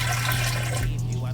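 Warm water pours steadily into a KitchenAid stand mixer bowl, a continuous close splashing fill that lasts about a second before easing off.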